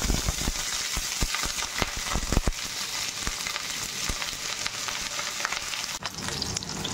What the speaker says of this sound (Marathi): आपण स्वच्छ करून पुसून घेतलेला फ्लॉवर सर्वप्रथम तेलामध्ये हलकासा फ्राय करून घेणार आहोत।